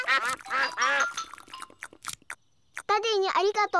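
A cartoon duck in the Peppa Pig animated children's show gives a few short nasal quacks near the middle, and a voice talks at the start and again at the end.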